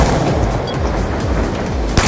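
Rapid gunfire in Call of Duty Black Ops 2, a dense, loud, continuous stream of shots with a sharper crack right at the end.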